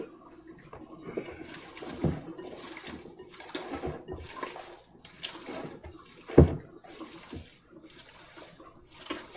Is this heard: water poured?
yes